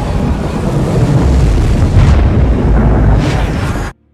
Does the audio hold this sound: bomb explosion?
yes